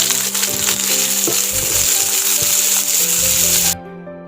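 Shallots, urad dal and dried chillies sizzle loudly in hot oil, a dense close frying hiss with some spoon clatter, cutting off abruptly near the end.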